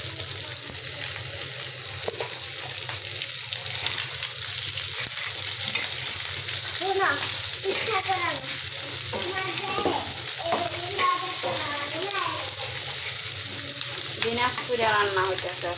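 Meat frying in a pan on a home stove, a steady broadband sizzle running throughout with occasional stirring scrapes; a voice speaks intermittently in the background.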